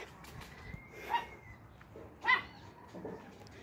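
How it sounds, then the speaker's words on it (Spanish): A dog barks a couple of times at a moderate distance, with short separated yips over quiet outdoor background. "el perro ladra y ladra"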